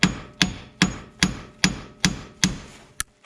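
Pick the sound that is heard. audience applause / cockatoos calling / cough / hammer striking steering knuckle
hammer striking steering knuckle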